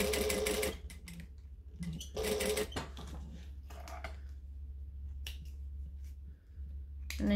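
A sewing machine stitches and backstitches a Hussy Case in short rapid bursts separated by brief pauses, close up, with a steady low hum underneath.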